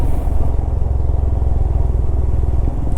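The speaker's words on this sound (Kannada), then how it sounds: "ಖುಷಿ ಆಗತ್ತೆ ಇಲ್ಲೆಲ್ಲ ಗಾಡಿ ಓಡಿಸೋದಕ್ಕೆ, ಒಂಥರ ಮಜಾ." A motorcycle or similar vehicle driving a forest road in the Bhadra wildlife area, its engine humming loud and steady, close up and continuous, with a low rumble and no talk.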